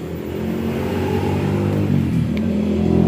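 A motorcycle engine idling roughly and revving with a steady, loud mid-range rumble close by, rising slightly toward the end, with no talking.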